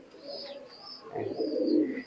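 A red pigeon of an imported high-flying bloodline gives a couple of rolling coos up close, the second longer and louder, with little else around it.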